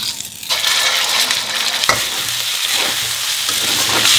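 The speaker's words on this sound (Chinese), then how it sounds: "肉丝下锅" Shredded pork, marinated with doubanjiang and starch, hits hot oil in a wok with a loud, continuous close sizzle, a brief stir clink partway through.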